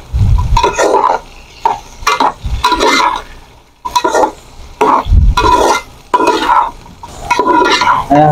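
Okra and onion fry over low heat on a desi chulha, sizzling steadily while a spoon stirs and scrapes the pan in repeated bursts close by.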